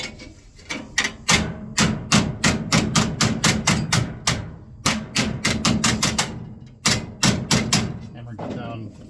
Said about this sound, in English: Hammer it down against a piece of wood down there.